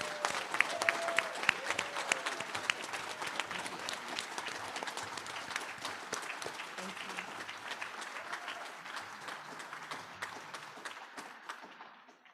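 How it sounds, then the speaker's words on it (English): An audience at a Project SEARCH graduation ceremony breaks into a long round of applause for the graduates, dense clapping with a few sharp claps and a brief voice early on, gradually thinning and fading out near the end. "Let's give all of our graduates another round of applause."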